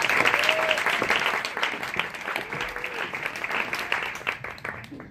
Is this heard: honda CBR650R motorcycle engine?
no